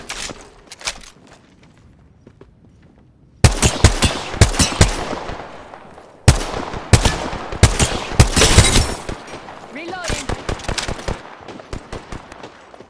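Apex Legends gunfire comes in loud bursts of rapid shots, separated by quieter gaps, with sharp single cracks and clustered volleys spread across the stretch and only faint game voices in between.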